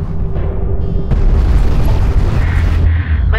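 Orbital weapon strike in the video game Homeworld: Deserts of Kharak, a loud deep explosion rumbling on for seconds with crackling debris, close and heavy, tailing off with faint game effects.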